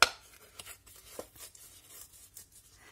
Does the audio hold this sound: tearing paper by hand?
yes